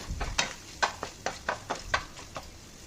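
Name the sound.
vegetables sautéing in a pan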